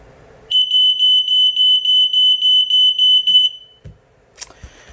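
A Fire Sentry 0805 smoke alarm under test sounds a loud, rapid run of high-pitched electronic beeps for about three seconds, then stops, followed by a few faint handling clicks.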